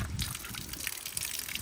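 Water gushes steadily from an outdoor tap into a container being filled for a dissolved solids test, a close, continuous splashing rush.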